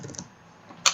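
A computer keyboard being typed on, heard as a few soft scattered keystrokes ending in one sharper, louder key click, close and with no talking.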